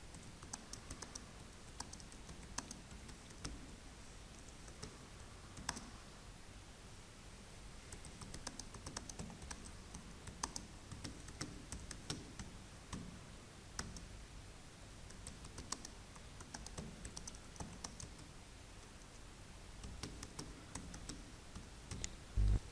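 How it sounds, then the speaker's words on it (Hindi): Steady typing on a computer keyboard while writing text in MS Word, a continuous run of soft, close key clicks with small uneven bursts and brief pauses, heard alone without talk. "ये मैं थोड़ा सा वैसे ही टेक्स्ट लिख रहा हूँ बस।"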